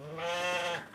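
A single sheep bleats during herding, a loud, close, quavering call lasting close to a second, with no talk over it.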